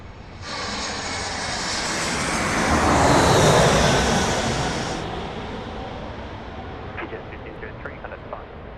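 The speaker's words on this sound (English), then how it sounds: "It's an A320 here on finals for runway 16 right." A Jetstar Airbus A320 on final approach lands on runway 16 right at Sydney Airport, its engine roar swelling loud as it passes close, then fading into a steady rumble with faint distant traffic.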